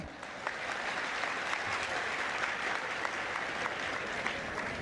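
Audience applause at a humorous talk, dense steady clapping from a crowd, continuous and fairly loud throughout, no talk.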